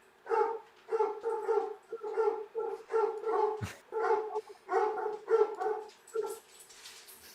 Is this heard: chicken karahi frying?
no